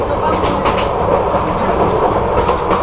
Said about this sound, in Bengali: আন্তনগর কক্সবাজার এক্সপ্রেস সে এখন তার যাত্রার সর্বোচ্চ গতি নিয়ে ছুটছে